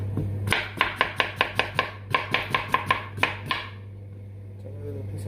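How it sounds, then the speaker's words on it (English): A knife chops green plantain in quick succession on a cutting board, about fifteen sharp, evenly spaced thuds, then stops, with a steady low hum underneath. "So I'm gonna cut them up."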